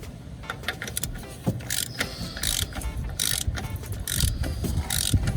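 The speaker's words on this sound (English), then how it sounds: "you take that socket and you finish it off" A socket ratchet clicks in quick bursts while snugging down the oil drain plug on a 2015 Toyota RAV4, close and fairly loud over a low workshop rumble.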